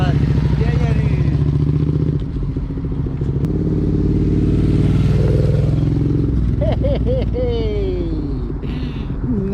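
A motorcycle engine during a first riding lesson, held at a steady loud idle drone up close, then rising in pitch as the throttle is opened, with brief rev swells and some clatter near the end.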